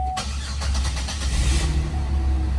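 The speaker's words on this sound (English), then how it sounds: "First crank of the day for this one too." A Pontiac G8 GT is cranked for its first start of the day: a quick burst of starter cranking catches into a loud, close engine that settles into a steady rumbling idle.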